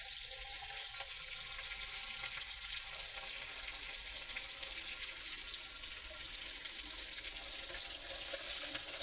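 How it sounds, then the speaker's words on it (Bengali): Chopped garlic fries in a pan as a quiet, even hiss of sizzling oil that holds steady from start to finish, with no talk over it. "রসুন কুচিগুলো দিয়ে দেব। একটু ভেজে নিয়ে"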